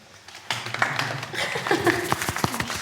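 An audience at a staged La Fontaine fable performance at the Château de Voltaire claps in scattered, uneven bursts, with voices talking alongside the claps.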